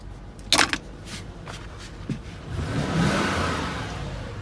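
A 2019 Lexus GX 460 four-wheel-drive SUV engine starts with a few thumps and then rises into a steady, building rev, heard close by.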